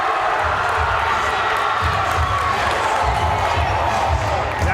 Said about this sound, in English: That gets the Renaissance crowd fired up here